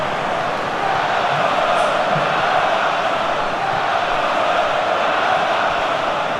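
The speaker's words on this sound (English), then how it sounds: "a small pocket of Villa fans goes wild at the far end" A dense stadium crowd roars steadily in a PES video game match at Highbury, Arsenal against Aston Villa, as away fans celebrate a goal, a constant wash of cheering with no breaks.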